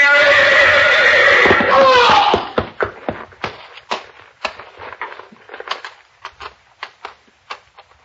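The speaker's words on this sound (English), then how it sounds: "You're backing into the horse." A horse lets out a loud, drawn-out whinny as a radio drama sound effect, followed by a string of sharp, scattered hoof clicks and knocks that fade to quieter taps.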